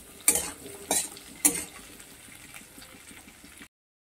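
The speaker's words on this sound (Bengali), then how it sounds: "পেঁয়াজটাকেও আলুর সঙ্গে মিনিট দিয়ে ভালো করে ভেজে নিতে হবে।" Potatoes and onions frying in a pan, stirred with a utensil: three sharp scraping clatters in quick succession over a soft, continuous sizzle that continues quietly afterward.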